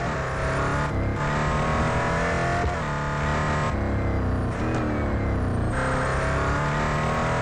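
A Koenigsegg One:1 hypercar in Real Racing 3 roars continuously at high revs, loud and close, its engine note rising and shifting with gear changes and dips throughout.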